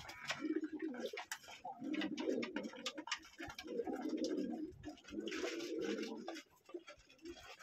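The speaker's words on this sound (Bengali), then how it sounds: "এইটি হলো নতুন কবুতরের খোপ" Pigeons in a pigeon loft on a cold day coo in repeated low, throaty phrases close by, one call rolling into the next, with light rustles and faint chirps between.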